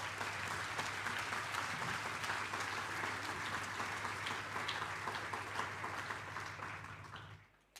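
Sustained audience applause at an awards ceremony honouring sponsors, a dense steady patter of many hands clapping with a low hum beneath, fading out near the end.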